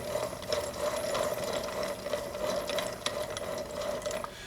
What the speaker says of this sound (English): I usually just spin it and just dribble a little bit in between the gears where they mesh